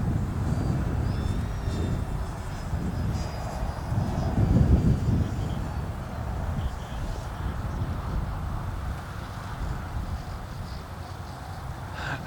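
E-Flite Turbo Timber RC airplane, a 1.5 m model on 4S power, flying in gusty wind, its motor a faint whine under heavy wind buffeting that swells and fades across the microphone.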